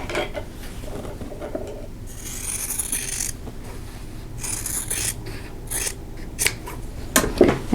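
Quilt fabric is cut along a drawn line, with close, crisp snips and scraping cuts coming in irregular bursts against a quiet background.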